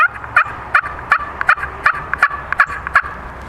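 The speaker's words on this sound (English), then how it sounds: "you make a little cluck," A turkey slate call makes a rapid, evenly spaced series of sharp clucks, about ten in a row, loud and close with nothing else heard.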